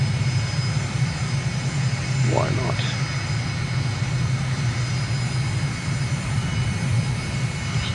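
A simulated aircraft in Microsoft Flight Simulator drones steadily with a low, constant engine hum during a low pass over a runway, as someone speaks briefly over it.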